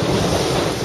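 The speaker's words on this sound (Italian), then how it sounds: "il vento lì sta aumentando un po'" Strong wind and sea waves rush continuously past a sailboat with reefed mainsail on a passage from Venice to Trieste, a loud, steady roar with microphone buffeting and no voices.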